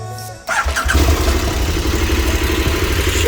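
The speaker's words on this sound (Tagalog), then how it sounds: "Sound check natin ang V-twin 1290cc ng KTM." A KTM 1290cc V-twin motorcycle with a stock muffler starts up after a short cranking whir, catching with a sudden roar and settling into a loud, close, lumpy idle with a throbbing low pulse.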